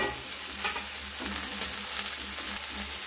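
Ingredients fry in a pan for spicy masala macaroni, browning in a constant, moderately loud sizzle with scattered crackles and brief stirring scrapes.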